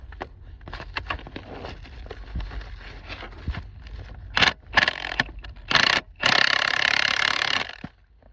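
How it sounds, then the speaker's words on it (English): An impact gun rattles in several short bursts while tightening bolts on a 3-inch PVC Megalug joint restraint, the loudest and longest burst near the end, with quieter handling noise and scraping between them. "Luckily I was blessed with an impact gun."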